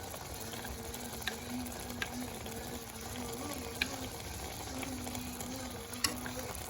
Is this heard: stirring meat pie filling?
yes